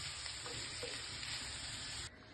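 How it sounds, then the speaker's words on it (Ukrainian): Grated carrot fries in a pan with a steady, close sizzle and hiss, a few faint stirring scrapes, and the sizzle drops slightly near the end. "І вже все разом смажимо до м'якості моркви."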